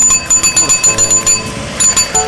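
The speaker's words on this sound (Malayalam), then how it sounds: "സൈക്കിളിന്റെ മണിയടി ശബ്ദം കേട്ടാൽ സ്ഥാനാർത്ഥി എത്തിയോന്ന് സംശയത്തോടെ നോക്കിയാൽ" A bicycle bell on an election candidate's campaign cycle rings in a rapid, regular series of bright, loud strikes close by.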